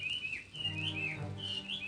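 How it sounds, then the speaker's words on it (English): A hwamei, or melodious laughing thrush, in Hawaiian forest sings loud repeated whistled phrases with rising and falling slurs over a faint background hum. "The vocalizations of the huame are loud repeated phrases."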